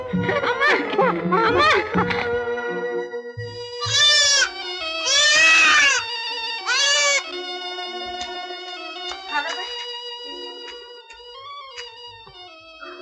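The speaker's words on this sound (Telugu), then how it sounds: "ఈ మేక పిల్లని ఎక్కడికి ఇలా ఈడ్చుకెళ్తున్నావు?" A young goat bleats loudly in repeated wavering cries while being dragged along, several strong bleats in a row with quieter animal sounds between them in an old film scene.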